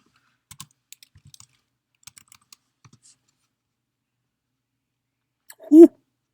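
A card number is typed on a computer keyboard as a series of light, sparse key clicks in short clusters, quiet and close, then after a pause a brief loud vocal sound from a person breaks in near the end.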